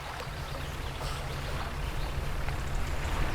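Sea waves washing against the shore in a boat-themed video game make a continuous, soft, rushing wash that swells slightly, with no voices.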